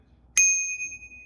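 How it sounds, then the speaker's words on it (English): One sharp strike of a small bicycle bell on a 2022 Polygon Siskiu T7 mountain bike, bright and close, its pure metallic ring sustaining and slowly fading over about a second. "Yeah, they give you a little bell."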